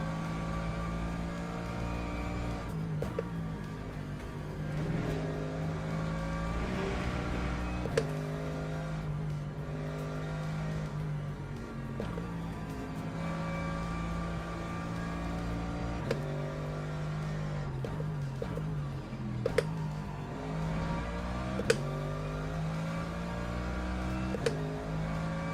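Race car engine in the sim racing game Le Mans Ultimate drones steadily throughout, with repeated revving rises and falls as gears shift under braking and acceleration, loud and continuous with a few sharp knocks.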